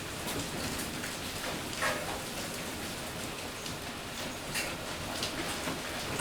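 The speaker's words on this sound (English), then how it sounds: "I've never seen hail. And it's hailing right now." Hail pelts the outside during a storm, a dense steady patter of impacts with scattered sharper clicks, heard through an open window at moderate distance with no talking.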